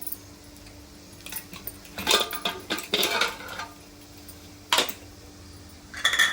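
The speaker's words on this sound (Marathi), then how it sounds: "कुकर थंड झालेले आहे आपण खोलूया" A pressure cooker of Koli-style dry mutton is opened once cooled, with bursts of metallic clanks and rattles from the lid and weight between quieter pauses, close by and without talk.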